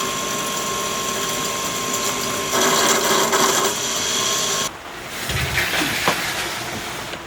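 A Chinese diesel heater runs with a steady mechanical drone and ticking, a brief louder stretch midway and a sudden shift in tone near the end, with no talking.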